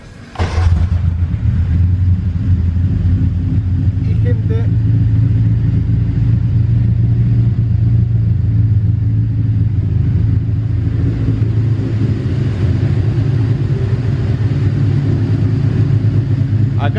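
A Fiat 147 engine catches and settles into a steady, loud idle, a low continuous rumble running alone throughout with an even rhythm.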